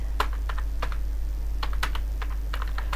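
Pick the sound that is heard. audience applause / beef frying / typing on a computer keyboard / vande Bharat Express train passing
typing on a computer keyboard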